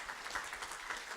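An audience applauds in a steady, brief wash of clapping, even and continuous with no voices rising above it.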